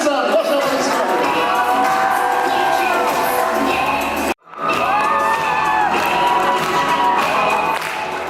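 Loud crowd applause and cheering from an audience at a gala concert of a song and dance festival, with whoops and shouts running continuously, broken by one brief dip before the clapping swells again.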